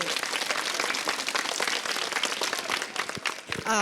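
Applause for a young girl named Viki after her folk dance performance at a Serbian community gathering in Salzburg, dense steady clapping from a crowd, loud and continuous throughout.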